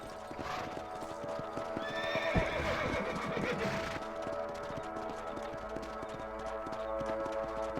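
Horse whinnying over the clip-clop of hooves in the Red Dead Redemption western game on Xbox, a loud neigh in the middle with steady hoof beats continuing throughout.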